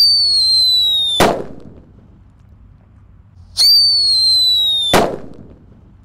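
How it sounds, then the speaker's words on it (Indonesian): Two whistling Black Buster firecrackers rise with a shrill squeal, each ending in a sharp loud bang with crackling decay, separated by a few seconds of quiet. "Langsung kita nyalakan mercon Black Buster dengan tisu gulung"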